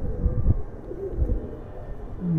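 Giribaj pigeons coo in low, throaty pulses over a steady background murmur, with a few soft repeated calls and no talking.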